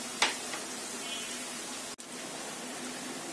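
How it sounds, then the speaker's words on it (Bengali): Chopped onion frying in a pan for chicken tandoori noodles gives a steady, close hiss of sizzling oil, with a brief stir or clink near the start. "পেঁয়াজটাকে একটু ভেজে নিতে হবে"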